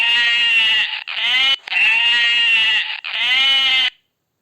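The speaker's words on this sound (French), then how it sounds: "mouton" A sheep bleats loudly and close up, four long wavering cries in quick succession, each one a drawn-out nasal baa, then silence.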